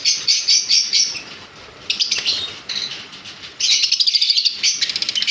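Busy high-pitched chirping from many lutino Fischer's lovebirds, continuous and overlapping, with bursts of rapid repeated calls; no talking.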